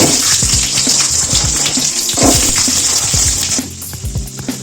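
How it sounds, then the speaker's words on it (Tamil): Onion and garlic fry in hot oil in a kadai for a mutton curry, a loud, continuous close-up sizzle broken by scattered metallic clinks of a spoon against the pan. "எண்ணெய் நல்லா சூடாகிறதுக்கப்புறமா வெங்காயம் பூண்டு தேவையான அளவுக்கு போடுங்க"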